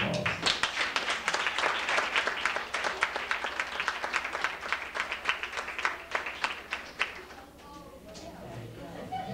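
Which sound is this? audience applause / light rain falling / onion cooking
audience applause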